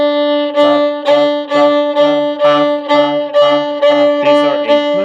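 Open D on a violin played as steady eighth notes, about ten evenly spaced bow strokes on one sustained pitch, close and bright, with no voices over it.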